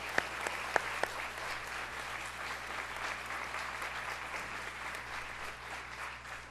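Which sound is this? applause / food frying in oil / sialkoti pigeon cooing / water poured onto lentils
applause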